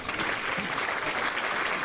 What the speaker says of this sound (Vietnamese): Vỗ tay động viên cả ba gia đình cái nào